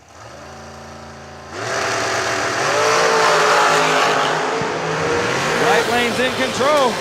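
Drag race cars launch down the strip in a side-by-side run: a low idling rumble jumps into a loud, harmonic-rich engine howl that holds and then sweeps and wavers as the cars pull away.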